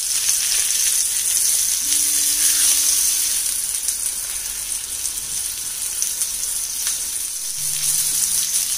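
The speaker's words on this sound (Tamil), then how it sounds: "இந்த பேனில் எண்ணெய் சூடு பண்ணியிருந்தேன், எண்ணெய் நல்லா காஞ்சிருச்சு. இப்போ மீனை இதில் வச்சிடலாம்." Pomfret fish frying in hot oil in a pan, a steady, close sizzling hiss that runs without a break and with no voices.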